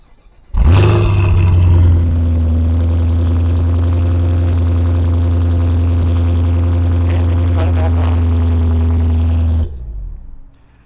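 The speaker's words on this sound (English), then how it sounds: "So we can remote start this vehicle by holding down this button twice." A Cadillac CT5-V Blackwing with a 6.2-liter supercharged V8 is remote started in sport mode, firing with a loud burst and then settling into a deep, steady, throbbing idle before shutting off near the end.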